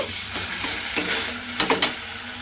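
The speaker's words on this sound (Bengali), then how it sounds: "এবারে ধনেপাতাটা দিয়েও কিন্তু আমি খুব ভালোভাবে একটু মিশিয়ে নেব।" Chopped coriander being stirred into an eggplant and egg mixture in a pan, a spoon scraping and knocking in a few distinct strokes over a soft background sizzle, close and alone.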